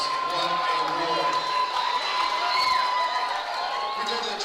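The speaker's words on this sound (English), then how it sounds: "Both these guys, big round of applause." Crowd cheering and applauding after a fight, a loud sustained roar with shouts and whoops, a tonal whistle or horn cutting through and a voice talking over it.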